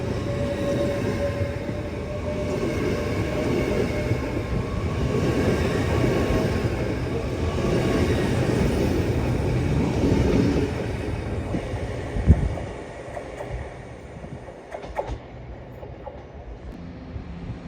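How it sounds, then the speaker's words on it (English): Train 170-621 pulls out of Peterborough station on the East Coast Main Line with a loud rolling rumble that fades after about twelve seconds. A sharp clank follows, then a thin high squeal rises as the sound dies away. "now departing as"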